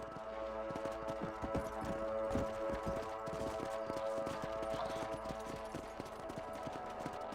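Horse hooves clip-clop at a steady trot in the video game Red Dead Redemption, a continuous rhythmic clatter close by over a low ambient game drone, with no talking.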